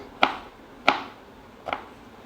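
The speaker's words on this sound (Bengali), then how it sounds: "কেটে নিতে হবে এটাকে কুচি কুচি করে" Three distinct, crisp knife strikes finely chopping vegetables on a board, spaced a little under a second apart and close up in a quiet room.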